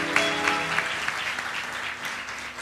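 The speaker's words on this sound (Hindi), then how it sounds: "ताली बजाओ एक बार यीशु के लिए।" A church congregation at a satsang prayer meeting claps for Jesus, a dense, steady round of applause from many hands at moderate distance, tapering slightly toward the end.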